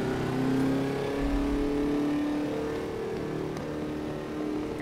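A Formula Vee race car engine at Imola in rFactor 2 drones and revs steadily, with a buzzing tone shifting in pitch as the car drives on, no voices.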